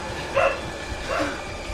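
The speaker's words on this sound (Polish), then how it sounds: "Jeszcze pies z tyłu." A dog in the video game Outlast gives two short barks a moment apart, somewhat distant, over a low rumbling background and no talking.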